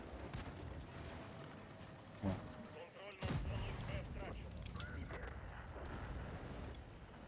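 Bursts of tank gunfire and heavy cannon-like blasts in World of Tanks ring out amid background noise, with a brief spoken sound in the middle.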